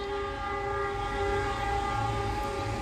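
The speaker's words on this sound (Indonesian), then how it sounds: "Wih, cempreng nih klaksonnya." A shrill, steady train horn from a fuel tanker freight train made up of jumbo tank cars, passing Sumobito station in Indonesia. It holds one continuous loud blast with bright stacked tones over low rumbling, and no talk is heard.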